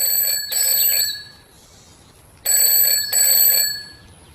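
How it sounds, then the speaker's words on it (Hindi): An office phone ringing in two bright electronic bursts separated by a short pause, loud and close with no voices. "तभी उसका फोन बजता है"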